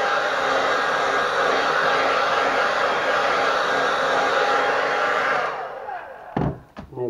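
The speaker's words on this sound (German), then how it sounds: "Mit dem Föhn mache ich das geschwind. Also ganz normaler Föhn," A regular household hair dryer, not a heat gun, blows steadily over wet fluid paint in a loud, constant whoosh for several seconds, then switches off, leaving a few brief knocks and handling sounds.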